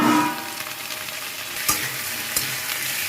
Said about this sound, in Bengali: আলুগুলো দিয়ে দিচ্ছি।